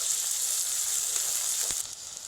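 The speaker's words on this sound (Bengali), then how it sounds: "আবার এক মিনিট মতো নেড়ে নেব পেঁয়াজের সঙ্গে মাশরুমটা" Mushrooms frying with onions in a pan, giving a steady bright hiss of sizzling oil with a brief scrape near the end, close and continuous.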